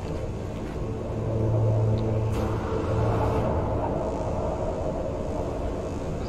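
A storm in the video game No Man's Sky, a steady low roaring wind rumble that swells slightly midway and holds, dense and continuous with no voices.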